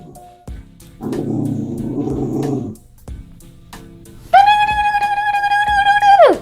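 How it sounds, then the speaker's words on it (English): A dog growls low and rumbling for a couple of seconds, then after a pause lets out a long, high, sustained whine, close by. "You can't be biting my ankles and growling at me."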